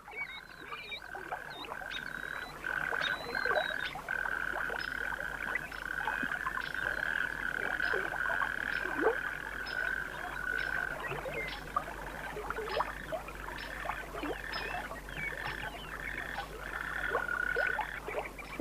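Frogs or toads croak in a steady chorus of repeated calls near a river, with a continuous pulsing drone and rhythmic higher notes throughout, moderately loud against the water-side ambience.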